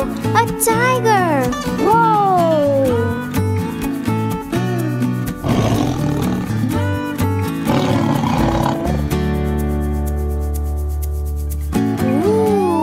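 A tiger roars in a cartoon jungle scene for children, several long, loud roars close by, with bright musical tones and sliding cartoon sounds weaving between them.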